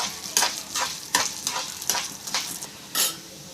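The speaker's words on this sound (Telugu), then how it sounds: "కొద్దిగా గుప్పుడు కందిపప్పు తీసుకొని రెండు కూడా బాగా వేపుకోవాలి. బ్రౌన్ కలర్ వచ్చేంత వరకు కూడా వేపుకోవాలి బాగా" Toor dal fries in a pan, a soft steady sizzle broken by repeated scraping strokes of a spoon stirring the lentils, roughly every half second, close and with no voices.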